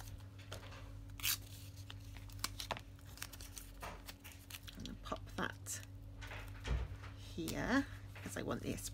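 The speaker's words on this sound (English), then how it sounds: "So I'm putting a little bit of torn paper here" Paper torn by hand for a notebook planning spread, several short ripping and crinkling bursts near the microphone amid low background hum, with a person talking throughout.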